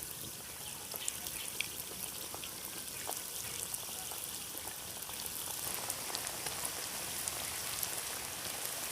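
Cauliflower pakoras fry in hot oil with a steady, fine, rain-like sizzle. Small pops crackle through it, and it stays close and fairly quiet throughout.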